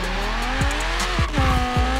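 Audi R8 V10 Plus in Forza Horizon 3 launching hard from a standstill, its V10 engine revving through rapid upshifts with rising and falling pitch while the tyres squeal in wheelspin, loud and close with no talking.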